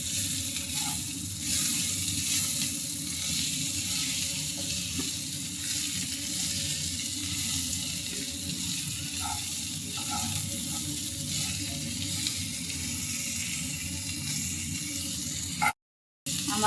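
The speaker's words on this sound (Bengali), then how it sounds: "করলাটাকে আবার একটু নেড়ে দিচ্ছি যেন পোড়া না লাগে।" Bitter gourd frying in a pan, a steady soft sizzle with occasional scraping and stirring clicks, close and alone, broken by a brief dropout near the end.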